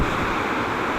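Water pours through the shutters of Kallada dam at Thenmala in a loud, continuous rushing roar, broad and steady for the whole second.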